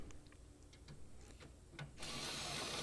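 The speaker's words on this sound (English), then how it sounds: "A drill with a socket." Quiet clicks and shuffling, then a power drill with a socket abruptly starts up turning a dump trailer's hand crank, whirring steadily, loud and close.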